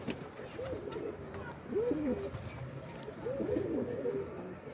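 Pet pigeons coo in three rolling, throaty phrases spaced a second or so apart, close by and moderately loud over a steady outdoor hum.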